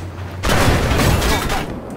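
Tank cannon fire in the online tank combat game Armored Warfare: a single heavy boom erupts after a brief pause and rolls on as a loud, dense blast.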